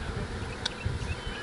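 A honeybee swarm settling into a new hive buzzes steadily and close, a dense droning hum with individual bees flitting past the microphone.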